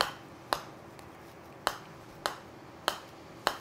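A TaylorMade Tour Response golf ball struck softly with a putter, five short, light taps at uneven intervals, close and clean against near silence.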